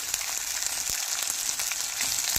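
Tomato and turmeric powder frying in hot oil over a ginger, cumin and dried chilli base, a loud steady sizzle broken by scattered crackles and pops.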